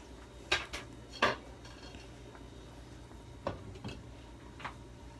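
A lid goes onto a cooking pot of beef pinapaitan with two crisp metallic clinks, followed by a few softer taps and rattles over a low kitchen hum.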